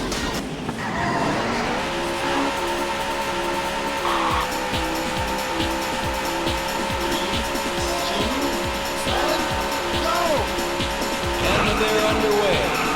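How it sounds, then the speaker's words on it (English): Race car engines roar steadily in the Daytona USA arcade racing game, a loud continuous drone with tire squeals and skids layered over it throughout, and a fresh burst of revving near the end. "Gentlemen, start your engines."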